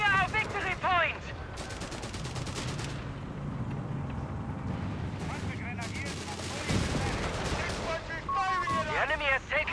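Battle din from Company of Heroes 3, a World War II real-time strategy match between the Afrika Korps and British forces, with dense continuous gunfire, machine-gun bursts and artillery thuds running throughout under a commentator's talk.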